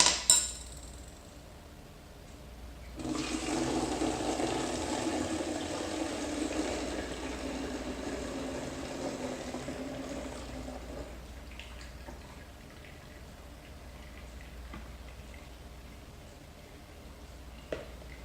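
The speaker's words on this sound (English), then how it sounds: "I'm going to go ahead and pour this mixture into the container" Homemade laundry detergent pours through a funnel into a container, a steady liquid gush and trickle lasting about eight seconds before tapering into quiet dribbles and a faint clink.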